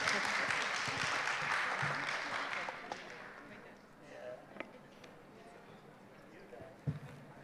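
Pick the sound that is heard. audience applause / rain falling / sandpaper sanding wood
audience applause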